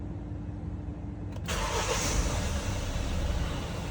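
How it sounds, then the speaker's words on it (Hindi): A car engine cranks and catches after the ignition is switched on, a sudden start about a second in, then settling into a steady, close idle rumble. "तो अभी इग्निशन किया ऑन।"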